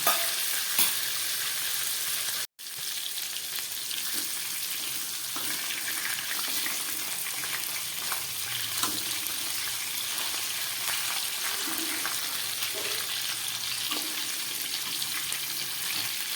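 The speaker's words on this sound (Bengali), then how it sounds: "মাছগুলোর এক পিঠ খুব ভালো ভাজা হয়ে গেছে, আর এক পিঠ হলে নামাবো" Rohu fish pieces fry in hot oil in a pan, a continuous low sizzle and hiss with occasional faint clicks and one brief dropout, heard close and fairly quiet.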